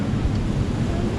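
Strong wind buffets the microphone in a steady, heavy roar of low rumbling noise outdoors at an allotment, with no clear voices.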